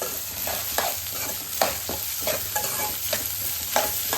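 Onions sauté in a pan with curry leaves for pepper chicken fry, a close, steady sizzle broken by regular scraping stirs of the spoon roughly every second, with no talking.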